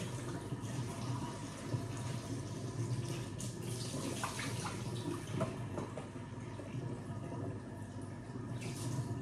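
Tap water runs steadily into a sink as soaked blackberries are rinsed to wash off vinegar, a continuous soft splashing with faint clinks of handling, fairly quiet and close.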